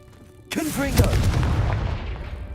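Confringo fire spell bursting in Hogwarts Legacy, a sharp explosive boom that lands after a brief voiced cast, followed by a long rumbling decay with crackling debris.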